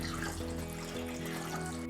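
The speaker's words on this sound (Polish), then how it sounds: "Po czym płuczemy pod bieżącą wodą przez 4 minuty." Tap water runs steadily over a 16mm film reel being rinsed in a developing tank, a continuous close hiss and splash at even volume throughout, with no voices.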